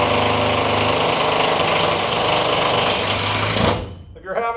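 A cordless drill driving screws into E-track inside an enclosed trailer, a loud close motor whine held steadily for nearly four seconds before it cuts off abruptly, followed by a brief softer rattle.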